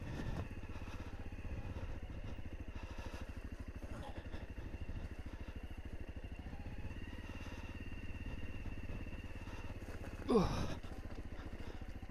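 Farmer's quad bike engine running in a field: a steady low mechanical drone throughout, fairly faint, with a brief louder swell near the end.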